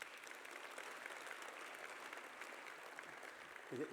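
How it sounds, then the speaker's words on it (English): Steady applause from an audience at a business awards ceremony, a dense patter of many hands clapping at an even level, heard from a distance, with a voice starting at the very end. "So everybody, I think, give Michelle a round of applause"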